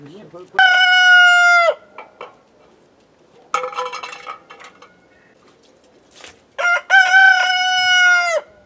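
A rooster crows loudly and close by from a rooftop, three long crows separated by pauses, with some clucking and faint clatter in between.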